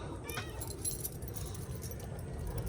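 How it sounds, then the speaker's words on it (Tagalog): Keys jingle softly in a hand near a boat engine on a farm visit, with light metallic rattles over steady background noise. "May susi naman po akong hawak."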